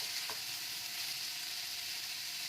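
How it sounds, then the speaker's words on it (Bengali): Carrot and other vegetables fry in a pan over a gas flame, a steady bright sizzle holding at an even level throughout, close and alone, with one brief knock near the start. "দিয়েই সবগুলোকে এখন কিছুক্ষণ একটু ভালো করে ভেজে নেবো আমরা।"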